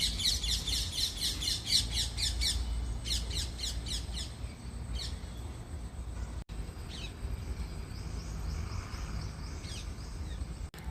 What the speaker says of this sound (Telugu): ఇప్పుడు వెళ్ళిపోగానే ఇవి వస్తున్నాయి బర్డ్స్ మెల్లగా